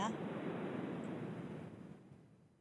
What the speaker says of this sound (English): There's some actual background sounds, kind of like waves.